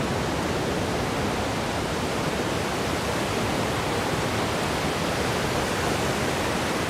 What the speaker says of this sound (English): This is all ocean,